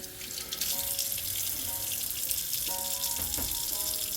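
Tap water runs steadily into a thrifted stock pot being rinsed, a bright continuous stream close by with faint clinks of the pot against the sink.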